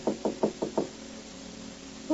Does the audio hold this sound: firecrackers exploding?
no